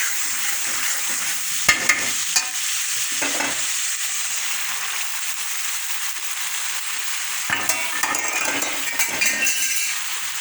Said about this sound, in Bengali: এখন কষানো নারিকেলে ঢেলে দিব